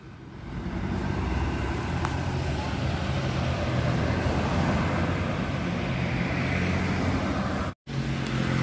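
A Sugeng Rahayu Hino RK 260 intercity bus passes a junction at Banyakan, Ngawi, at night: a loud, sustained engine and road roar that swells and holds close by, then drops out abruptly.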